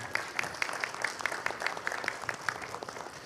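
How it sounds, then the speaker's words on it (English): An audience at a human rights forum applauds, continuous crowd clapping with a regular, pulsing rhythm heard from a distance and no speech over it. "Please give yourselves a round of applause."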